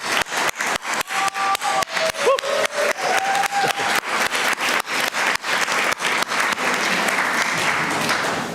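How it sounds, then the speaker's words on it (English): Sustained audience applause with sharp, dense clapping throughout, loud and close, building into a steady roar of many hands toward the end, with no talking over it. "We'll give you applause."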